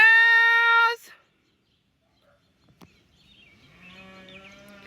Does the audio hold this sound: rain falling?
no